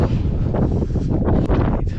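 Strong wind buffets the microphone in continuous loud gusts, a broad roaring rush with no voices.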